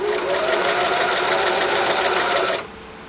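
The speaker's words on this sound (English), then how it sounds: "I like to stitch right down the inside fold." A sewing machine stitches along the inside fold of a folded hem, giving a steady, close, rapid mechanical whirring hum that cuts off abruptly near the end.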